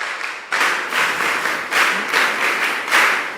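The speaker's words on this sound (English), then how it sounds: "with a big round of applause, shall we welcome Dr. Ajeli as she joins us." An audience gives a sustained round of applause welcoming a speaker to a mentorship session, steady dense clapping filling the room for several seconds with no talk over it.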